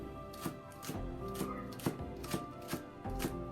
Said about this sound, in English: So I just chop it.